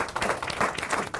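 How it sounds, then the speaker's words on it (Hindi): A brief burst of audience clapping at a national bravery awards event, short and moderately loud. "तालियां।"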